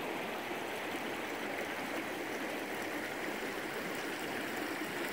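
The Gila River in the Gila Box Natural Conservation Area of southern Arizona, a steady rushing stream flow, close and continuous with no voices.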